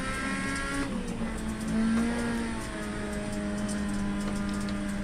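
A race car engine in iRacing revs loud and close, holding high steady pitch with slight rises and dips, no voices over it.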